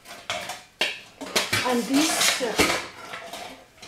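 Pots, pans and cutlery clatter and clank in a home kitchen while a steamer pot is set up, with repeated sharp metallic knocks and scrapes close by, mixed with occasional speech.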